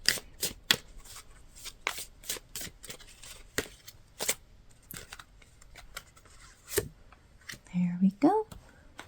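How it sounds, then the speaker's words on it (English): Tarot cards being shuffled in a series of crisp, close riffling snaps and soft rubs, spaced irregularly, with a brief spoken voice near the end. "So as I'm shuffling out your cards,"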